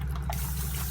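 Fresh water flushes steadily through an airbrush, a continuous close hiss and trickle over a low background hum.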